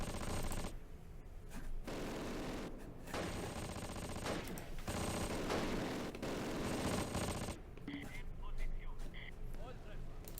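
Gunfire in the WWII tactical game Close Combat: bursts of machine-gun and rifle fire crackle in long, dense volleys broken by brief pauses, with rumbling battle noise underneath and someone talking over it.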